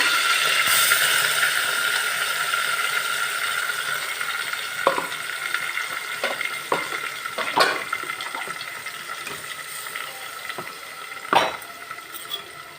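Masala paste sizzles in hot oil with curry leaves and mint, cooking for a goat meat curry. A continuous frying hiss carries occasional sharp scrapes and clinks of a stirring spoon against the pan.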